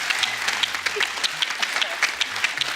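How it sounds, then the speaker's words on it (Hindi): Studio audience applauding for actor Paresh Rawal on a comedy talk show set, with brisk, even clapping from a crowd that holds steady throughout and no voices over it. "परेश रावल जी के लिए जोरदार ताली हो जाए"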